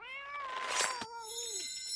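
A cat gives one drawn-out meow with a falling tail, close and fairly clear over a faint background, with no speech.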